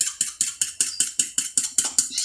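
Eggs whisked by hand in a bowl for a meat-filled omelette, about ten quick, evenly spaced clattering strokes, close and crisp with no talking.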